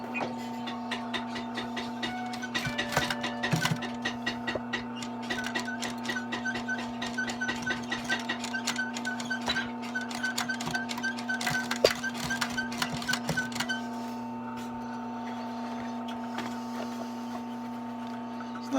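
A sewing machine stitches heavy leather for a vintage briefcase, running steadily with a rapid mechanical ticking over a constant electrical hum, with brief pauses and bursts; close and moderately loud.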